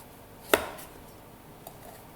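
A knife slices through squash on a cutting board, giving one crisp, close chop followed by quiet and a fainter second tap.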